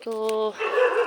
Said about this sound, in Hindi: क्योंकि बीच में कुत्ता भी भौंक रहा भाई।